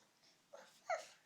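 A young child imitates a dog's bark, giving two soft, brief yip-like sounds in quick succession, quiet and close in an otherwise still room.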